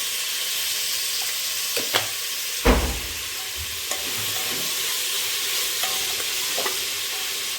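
Fenugreek leaves frying in a pan for tomato bath, a continuous hissing sizzle with a few scraping stirs and one louder thump partway through.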